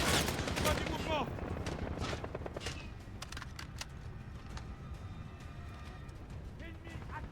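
Rapid machine gun fire rattles in the Call of Duty Modern Warfare video game, dense and loud at first and then thinning to scattered bursts, with combat shouting over it.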